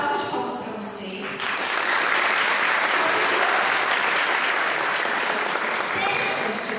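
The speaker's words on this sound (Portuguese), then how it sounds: "uma salva de palmas para vocês" An audience at a teacher-training event in Sapeaçu claps together in dense, sustained applause, starting over a voice and then running on loudly and steadily.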